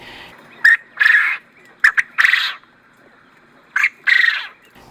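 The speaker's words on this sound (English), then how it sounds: "if you've never heard a male quail rooster, like its rooster noise, hysterical" Several short, harsh male quail crowing calls in separate bursts, a couple of clipped squawks followed by longer raspy crowing notes, fairly close and loud against quiet.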